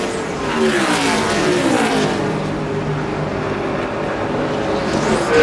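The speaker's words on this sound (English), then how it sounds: "Jeffrey Bodine, the Discover car, goes easing by." A NASCAR stock car, the Discover car, drones past on the track during the 2002 Pennsylvania 500, its engine holding a loud, steady roar with a slight rise and fall, heard alone.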